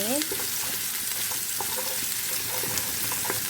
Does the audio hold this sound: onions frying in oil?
yes